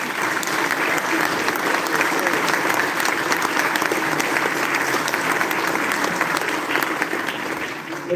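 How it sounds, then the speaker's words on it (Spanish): An audience in Córdoba applauds an author at his book presentation, warm and continuous clapping from a packed room that holds steady throughout. "estos aplausos me agigantan, me inflaman el ego."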